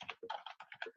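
Rapid typing on a computer keyboard, a close, steady run of clicky keystrokes in quick bursts with short pauses, heard alone.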